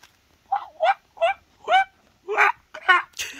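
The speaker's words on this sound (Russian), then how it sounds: "Крякающая утка." A small squishy toy duck squeezed repeatedly, giving about seven short, separate squeaky quacks in an uneven rhythm, close and fairly loud with quiet gaps between.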